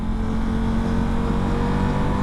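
Cars and other motor vehicles stream along a busy road, a continuous near engine drone and rumble with a low steady hum and no pauses, and nobody speaking.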